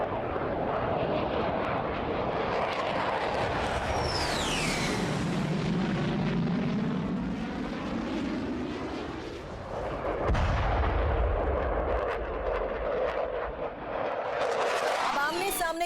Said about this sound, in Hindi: MiG-29 जेट से बमबारी की गई और रूसी अड्डों पर हवाई हमला हुआ।